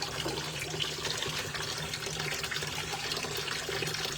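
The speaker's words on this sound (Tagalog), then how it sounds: "tapos na tayo maghugas guys" Dishes washed under a running water tap, a loud, steady close rush of water that never lets up, with no voice.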